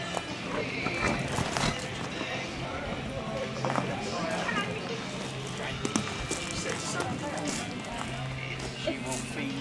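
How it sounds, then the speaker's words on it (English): Horse hooves thud in a quick, uneven rhythm as horses canter in a hunter under saddle class at a horse show, over a busy background with occasional whinnies and distant voices mixed in. "Canter your horses,"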